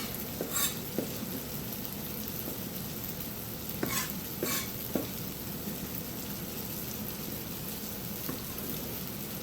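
Bruschetta topping being stirred in a bowl, a series of soft wet clicks and scrapes over a steady background hiss, close and moderate in volume, with no talking.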